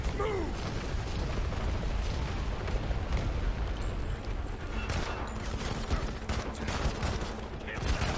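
Steady mechanical clatter of weapon fire from the mobile shooter Modern Combat 5, dense and continuous with rattling, ratchet-like shots throughout.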